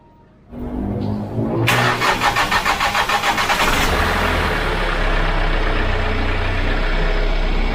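A Hyundai Accent CRDI diesel engine cranks with a rapid rhythmic starter churn for about two seconds, then catches and settles into a steady, loud, close idle with no talk.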